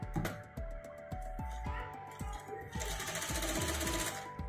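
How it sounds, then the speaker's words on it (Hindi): A sewing machine stitches gathers on a baby frock at full speed, a fast rhythmic needle clatter with regular thumping strokes, close and steady with a brief shift in tone partway through. "मशीन की हम फुल चाल रखेंगे, जो हमारी मशीन की सिलाई है।"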